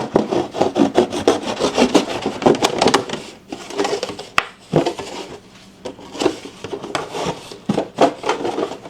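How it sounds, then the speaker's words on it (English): A dull knife saws through a plastic milk jug with rough scraping, rubbing strokes, close and fairly loud, pausing briefly, with a faint bird in the background. "Just take your milk jug, and I know some people leave a hinge. We're going to just go ahead and cut ours completely off."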